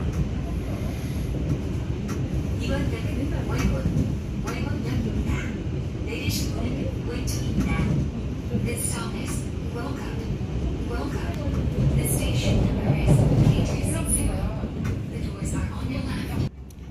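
Korean metro train pulling into a station and running along the track, a steady broadband rumble with rail squeal and hiss, with people talking over it throughout.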